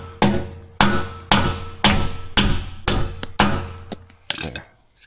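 Big bolts being pounded with a hammer while replacing the cutting edge on a John Deere 450: six hard metallic strikes at a steady pace, each ringing and decaying, then a few lighter taps, close and loud.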